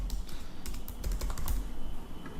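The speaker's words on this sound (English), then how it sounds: "when we start typing out a query" Rapid, uneven keystrokes on a computer keyboard as a GraphQL query is typed into a developer tool, close and clear with no talking.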